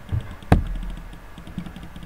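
Clicking while playing the idle game Tap Tap Infinity. One sharp, loud click stands out among a few softer, scattered taps, close to the microphone.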